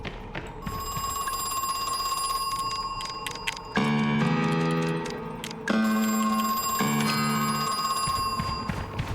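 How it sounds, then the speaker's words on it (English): A telephone rings twice, each ring a buzzing bell burst of about a second, over steady ticking and electronic tones in the room. "Please ignore the phone."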